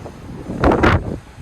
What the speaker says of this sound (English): the wind still is blowing a little bit